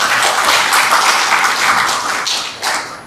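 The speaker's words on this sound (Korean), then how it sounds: "자, 크게 박수 한번 주십시오." An audience at a science and technology forum on bio health care and vaccine production claps steadily, a dense, loud round of applause filling the whole moment.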